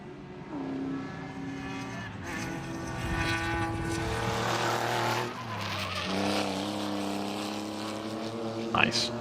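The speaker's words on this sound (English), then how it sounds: "I love race car noises." Race cars on the Sebring circuit during a WRL endurance race pass with rising and falling engine whines and Doppler sweeps, moderately near, under the commentators' talk.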